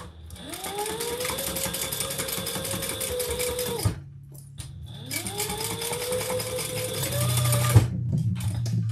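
A sewing machine stitches a seam in two long runs, its motor whirring up in pitch at each start, holding a steady close hum, then stopping abruptly, with quiet handling noises between and after.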